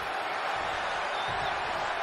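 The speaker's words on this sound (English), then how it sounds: "just listen to this Tokyo crowd" A Tokyo arena crowd in the wrestling video game WWE 2K20, a continuous dense roar of cheering through the whole short moment.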